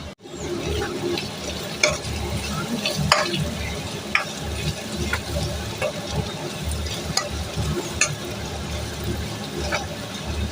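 Prawns stirred and fried with turmeric, chilli and curry leaves in a pan, giving a continuous close sizzle broken by repeated scraping and clacking strokes of a spoon.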